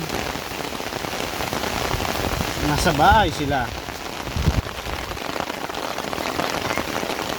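Steady rain patters on a surface throughout, with a person speaking briefly partway through.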